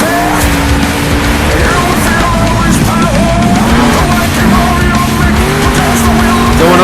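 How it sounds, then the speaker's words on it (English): A monster truck spins a donut in an Indianapolis arena show, its engine roaring loud and continuous with squealing tires and rising pitch sweeps while an announcer talks over it. "Gonna spin it into a donut."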